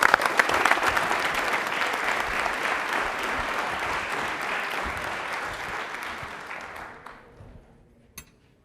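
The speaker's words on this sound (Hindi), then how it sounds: "तालियां एक बार जोरदार हो जाए रोहित के लिए" A studio audience on a televised quiz show claps for a contestant, loud dense applause that holds steady, then tapers off and dies away, ending with one last isolated clap.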